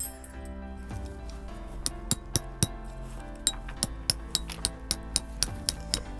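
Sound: hammering tent stakes into the ground

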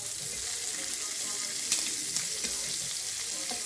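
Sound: shrimp sizzling in a frying pan as they are turned

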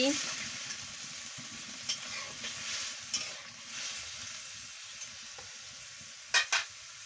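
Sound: stirring vegetable curry in a pan after adding water

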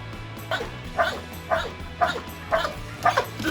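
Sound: dog barking

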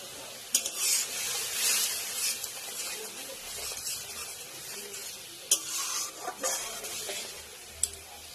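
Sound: mustard fish curry boiling in a pan

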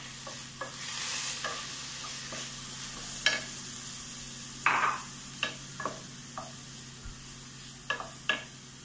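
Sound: tomato added to sautéing onions in pan

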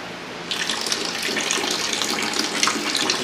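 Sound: gas flowing into a beer keg

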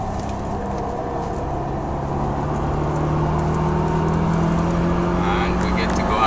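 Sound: car engine shifting gears on race track at Laguna Seca

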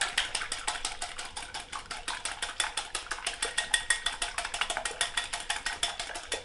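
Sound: whisking eggs

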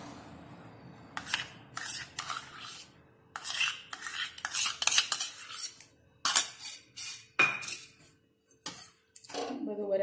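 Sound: mixing cream into roasted wheat flour in a pan

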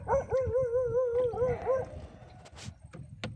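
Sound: dog barking

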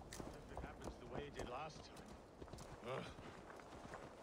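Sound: horse hooves galloping in Assassin's Creed Valhalla video game

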